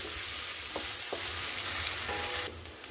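Finely chopped onions fry in a pan for dal fry, a continuous hiss with occasional spoon stirs, until the sizzle drops off sharply near the end.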